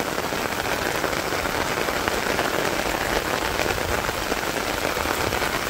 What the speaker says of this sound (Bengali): যে বৃষ্টি নামছে আমার মনে হয় না এই বৃষ্টি যাইব